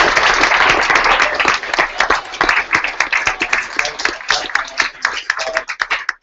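A hackathon crowd bursts into a round of applause, thick and loud at first, then thinning into scattered individual claps that fade out by the end.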